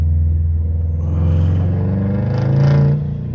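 A modified car passes close by with a deep, rumbling engine that swells as it approaches, revs louder near the peak, then begins to fade as it moves away.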